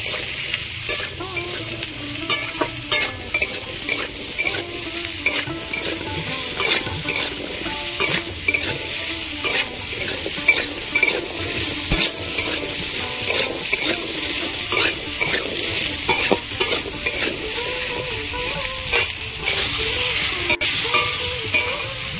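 Potatoes frying in oil in a pan for a Bengali potato curry, a loud continuous close sizzle and crackle with frequent stirring clatter throughout, no talking.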